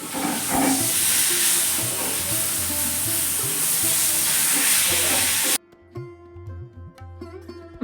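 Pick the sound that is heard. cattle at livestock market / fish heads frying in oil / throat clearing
fish heads frying in oil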